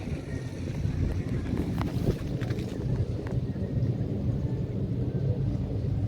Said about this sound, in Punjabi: ਅੱਜ ਤਾਂ ਹਵਾ ਚੱਲਦੀ ਬਈ